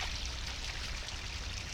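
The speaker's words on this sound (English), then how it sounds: "So, right here is the waterfall." A waterfall of flood water after rain in Montana gives off a steady, close rushing roar, broad and even throughout with no talking.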